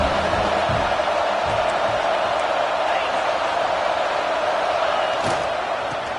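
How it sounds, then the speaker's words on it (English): A stadium crowd cheers during a football game in the Madden 26 video game. The dense roar is continuous and loud, with occasional thuds breaking through it. "And the crowd coming to life here, trying to help this defense down in the red zone."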